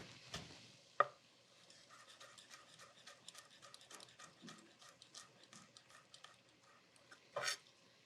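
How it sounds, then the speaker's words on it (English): A knife slices through garlic cloves on a cutting board, producing a quiet run of quick, close taps and scrapes, with a sharper knock near the start and a brief louder burst near the end; no one speaks. "It makes it a little bit easier to slice the garlic."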